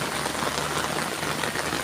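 Rain falls steadily at Ban Khok Sa-at village, a dense, even hiss of drops striking surfaces nearby with no pauses and no voices.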